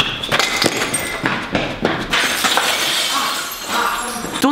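Glass shatters and crashes repeatedly over several seconds, played back from a video clip, with sharp bright bursts and falling debris, loud and close with no talking.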